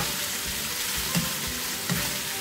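Chicken sizzles steadily in a hot pan for chow mein, with a constant dense hiss and two soft clunks of stirring near the middle and end.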